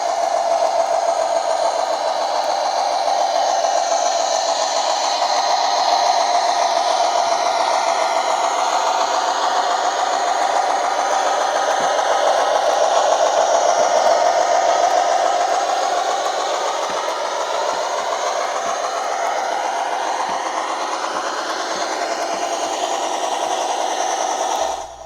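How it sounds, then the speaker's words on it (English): A Lionel toy train locomotive runs steadily with a continuous whirring, rattling mechanical drone and layered electronic sound effects, including a steam chuff tied to the turning tender wheels, sustained and even for the whole stretch with no talking. "the steam chuff is actually triggered at the speed of the actual tender wheels turning"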